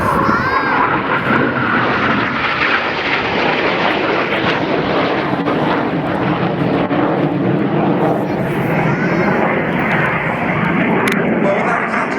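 Red Arrows jet aircraft flying an airshow display at Leuchars, producing a loud, continuous roar throughout with a commentator talking over it.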